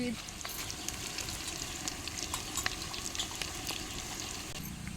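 Onions with ginger and garlic paste sauté in a pan for a home-made chicken biryani, giving a steady, close hiss of frying with faint scraping from stirring throughout.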